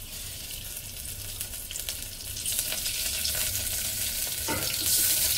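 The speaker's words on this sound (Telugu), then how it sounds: "ఆయిల్ పోస్తున్నానండి" Oil poured into a hot pan for a Telugu egg and dried fish curry sizzles steadily, the frying hiss growing louder and brighter toward the end, with faint stirring and a watery splash mixed in.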